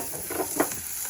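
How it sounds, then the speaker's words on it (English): Butter melting and sizzling over onions on a Big Green Egg grill, a steady frying hiss with a few soft stirring pops, close and moderately loud, no talking. "now I'm going to start adding some butter"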